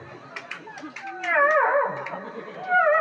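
A voice imitates a dog, with rising and falling howls and short yelping barks repeated across the stretch, loud and close.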